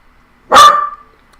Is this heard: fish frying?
no